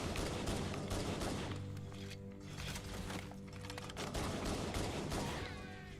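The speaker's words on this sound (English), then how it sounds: "The best pistol in video games, the Combat Evolved Magnum" The Magnum pistol in Halo: Combat Evolved Anniversary firing amid a busy battle, sharp repeated shots mixed with other gunfire in a loud, continuous barrage with no speech.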